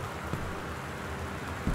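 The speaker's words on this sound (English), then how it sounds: "Oh, it's raining a lot." Steady rain hiss in the video game Gone Home fills the background, with a couple of soft thumps and no voices.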